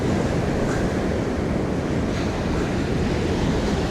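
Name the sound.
choppy sea waves at Skegness beach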